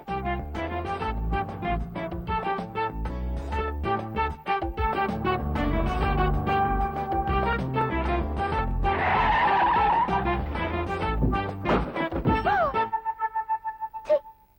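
A car brakes hard and skids in a Tamil comedy film scene, a short screeching skid rising midway through loud, busy background music.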